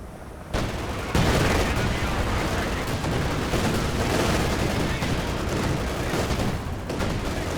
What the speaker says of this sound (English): but in comes some incendiary artillery